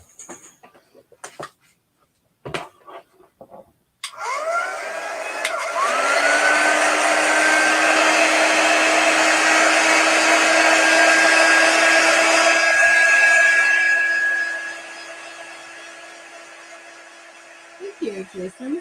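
A heat tool hums on steadily for about ten seconds, drying shimmer on a paper craft snowflake made from book pages, then winds down; brief chatter and clicks come before it starts.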